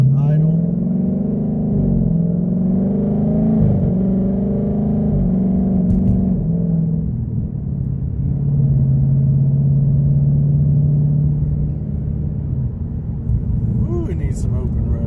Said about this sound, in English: Oh, it sounds so good. Even just sitting at the light on idle.